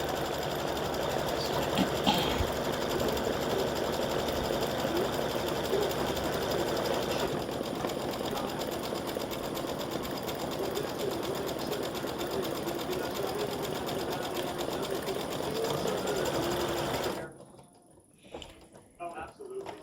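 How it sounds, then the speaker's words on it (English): An embroidery sewing machine stitching text onto an appliqué, a steady, close mechanical whirring and rapid needle chatter running continuously, with a voice talking occasionally over it before the machine stops. "so it's stitching the text"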